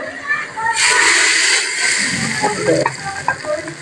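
A sudden loud hiss and crackling sizzle as hot tempering oil hits cooked lentils, settling into bubbling and stirring noises, close up, with a voice faintly underneath.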